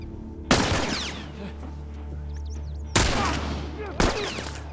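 Gunfire in The Last of Us: three sharp, loud shots spaced irregularly, each trailing into a ringing decay over a low steady background hum.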